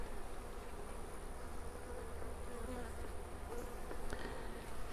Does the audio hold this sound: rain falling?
no